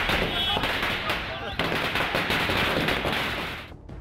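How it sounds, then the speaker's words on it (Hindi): Firecrackers and fireworks set off by celebrating Congress party workers crackle in dense, continuous rapid bursts, loud and close, with crowd noise mixed beneath before fading near the end. "कार्यकर्ताओं ने जश्न मनाकर आतिशबाजी शुरू कर दी"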